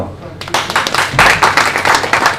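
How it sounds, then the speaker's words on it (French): Small audience applauding at a live comedy night in Strasbourg, close, uneven clapping that starts abruptly and swells in bursts, loud and near. "donc on peut aussi l'applaudir"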